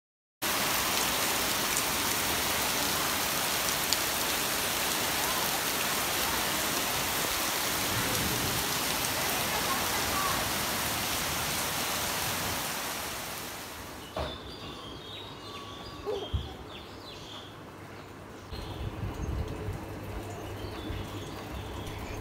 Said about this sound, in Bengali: এখন আবার বৃষ্টি হওয়া শুরু হয়ে গেল